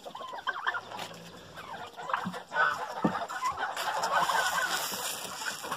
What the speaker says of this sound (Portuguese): Agora vamos tratar as galinhas.